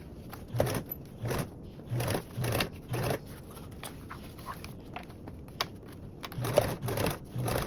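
Sewing machine top stitching along zipper tape and tab with a 1/8-inch seam allowance, heard as short bursts of rapid mechanical stitching separated by brief pauses, fairly close and moderately loud with no talk.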